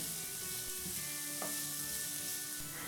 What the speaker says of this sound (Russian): Когда масло хорошо нагреется, обжариваем на нем лук до полуготовности.